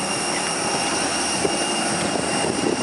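An airplane flying toward Cebu, its engines a continuous steady roar heard from inside the cabin.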